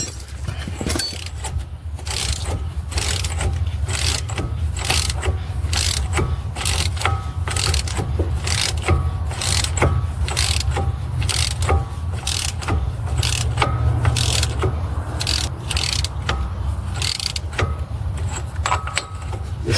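A ratchet clicks rapidly and steadily while tightening a bolt on the front lower ball joint of a 2009 Dodge Journey, the close metallic ratcheting running continuously over a low background hum.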